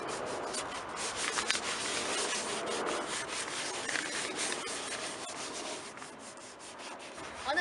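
Wooden furniture being sanded by hand during a restoration job, a steady scratchy rubbing that runs continuously at close range with brief louder strokes near the end, no talking.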